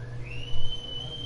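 A single person's whistle rises briefly, then holds a thin, steady tone for about a second, fairly clear over low background rumble.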